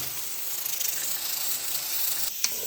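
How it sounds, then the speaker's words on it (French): Steam escapes from a cooking pot of meat in a fairly quiet, continuous hiss, steady and close, with a small knock near the end. "là je fais sortir toute la vapeur"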